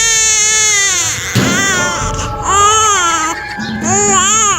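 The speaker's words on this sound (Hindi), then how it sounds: "तभी दूर से फिर किसी बच्चे के रोने की आवाज सुनाई दी।" A baby cries at night, heard up close in a series of loud, wailing sobs with rising and falling pitch, broken by short pauses and gasps.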